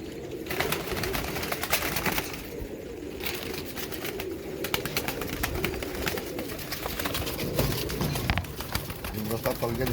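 Almari pigeons coo among the lofts of a pigeon keeper, soft throaty calls blended into a dense, noisy background where voices are also heard, continuing for about ten seconds.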